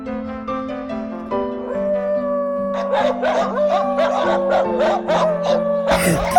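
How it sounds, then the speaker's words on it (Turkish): Dogs bark and yip in a quick run of sharp calls over a soft melodic tune, fairly close and lively. "Köpek sesleri. Orada köpekler var."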